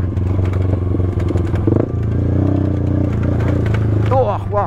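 A motorcycle rides along a jungle road with a close, steady engine drone and some clatter and scraping, with people talking over it.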